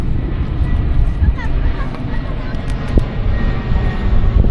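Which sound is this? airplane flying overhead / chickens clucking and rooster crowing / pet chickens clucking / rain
airplane flying overhead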